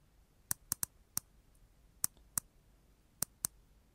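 AI-generated mouse click sound effects: eight crisp, sharp clicks at uneven intervals, some paired closely, each brief and clear against near silence.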